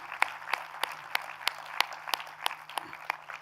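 Sparse, evenly spaced claps ring out at a university convocation, about three per second, faint and distant over a low steady hum.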